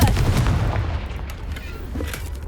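A Confringo fire spell blast in Hogwarts Legacy, a loud booming burst at the start that decays into a rumbling tail with smaller crackles.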